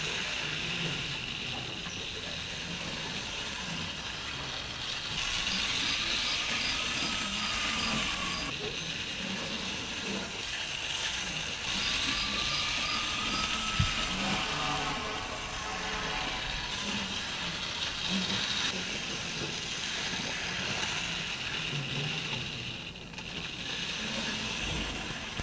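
A Hornby 0-4-0 tank toy locomotive with low-friction pinpoint axle bearings hauls a four-wheeled carriage in Caledonian Railway livery, giving a steady whirring, clicking mechanical rattle that runs on continuously at close range with slight swells.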